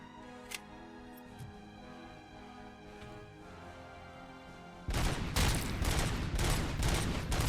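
Sustained rapid automatic gunfire from a heavy machine gunner in the video game Robocop: Rogue City bursts in loud and dense after a stretch of quiet game ambience and music, continuing without pause, no talking.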